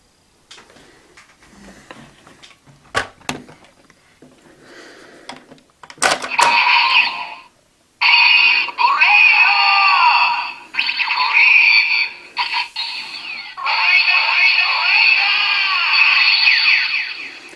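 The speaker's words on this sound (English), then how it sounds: "that was the sound of when his buckle clicks into place" A Kamen Rider toy belt buckle gives a few sharp clicks and snaps, then bursts into loud, bright electronic tones that run in several sustained blocks with short breaks between them.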